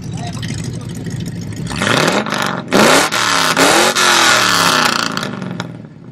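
A 1967 Chevrolet Camaro SS revs hard through dual stainless exhausts, starting at a low idle, then rising in several sharp blips and climbs before falling back, loud and close.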